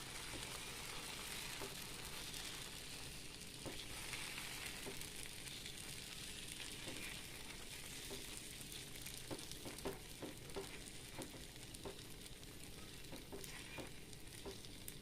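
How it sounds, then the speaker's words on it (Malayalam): Wheat dosa batter cooks on a hot pan with a faint, steady sizzle and crackle that continues evenly throughout, with occasional small pops. "അടുപ്പത്ത് വെച്ചു ഗോതമ്പ് ദോശ നമ്മൾ ഒഴിച്ചു കൊടുക്കുകയാണ്."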